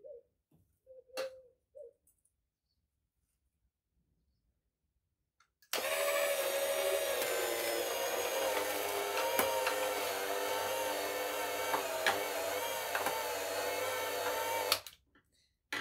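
A juice extractor starts up after a few faint knocks and silence, then grinds parsley and apple with a steady whirring motor drone and scattered crunchy clicks for about nine seconds before stopping abruptly.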